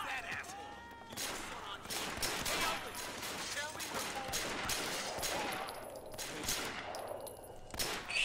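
Rapid gunfire bursts in the open-world kung fu action game Sleeping Dogs, loud and dense shots crackling repeatedly throughout with game sounds mixed in.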